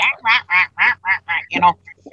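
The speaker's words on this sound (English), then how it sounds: "My daughter found this video on Facebook about this duck" Duck quacking in a clip from a Facebook video, a run of about seven loud, evenly spaced nasal quacks close to the microphone, ending in a couple of softer, shorter calls.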